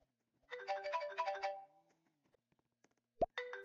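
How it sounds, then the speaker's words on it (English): A phone plays a bright electronic melody of quick, chiming notes that lasts about a second. It is followed by a sharp click and the start of the tune again, with no talking. "I'm literally just playing a ringtone on my phone."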